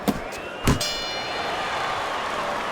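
A boxing round-end bell in an AI boxing video game clangs twice in quick succession, loud and metallic, and then rings on as a long fading tone over steady crowd noise.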